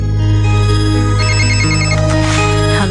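A telephone rings loudly and close with an electronic ringtone of stacked repeating tones and a rising melodic pattern, played alone without speech.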